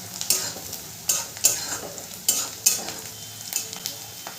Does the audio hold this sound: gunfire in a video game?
no